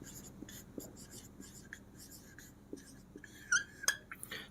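A pen writes on a board during an English grammar lesson, giving soft scratchy strokes in short bursts, with a couple of sharper squeaks near the end, close and fairly quiet.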